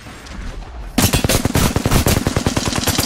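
Rapid automatic gunfire in a first-person shooter video game, loud and close, a dense rattling burst of shots that starts abruptly after a second of low ambience and keeps pounding steadily to the end.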